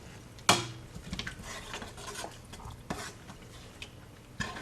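A spoon stirs a sweetened mixture in a bowl or pot, with a sharp clink at the start followed by soft, irregular scraping and tapping, close and moderately quiet.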